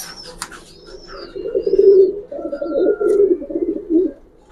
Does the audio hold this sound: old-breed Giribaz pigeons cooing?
yes